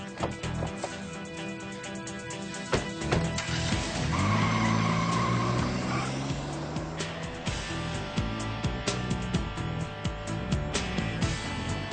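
A car pulls away with tires skidding and squealing, engine noise loud and close beneath a busy music score, with rhythmic hits continuing throughout.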